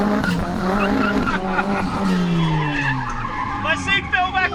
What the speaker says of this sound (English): Okay, it is time for 2 Sexy's drift styling